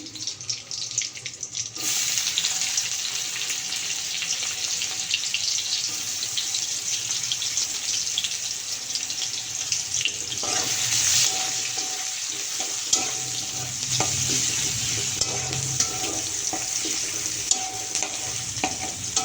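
Onion fries in a pan with nigella seeds, a loud, continuous sizzle that flares as it hits the hot oil and carries on with scraping stir strokes.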